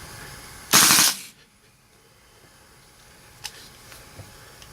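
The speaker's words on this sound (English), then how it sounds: "See, I'll do a real quick burst." A KWA LM4 PTR airsoft gas blowback rifle fires one short, sharp burst of rapid shots lasting about half a second, followed by quiet handling clicks.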